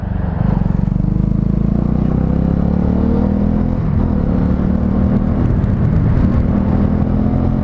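A Honda CB 125R motorcycle is ridden through a bend, its small engine droning steadily, close and loud, with wind rumble over the ride and faint pitch shifts as it leans and holds speed.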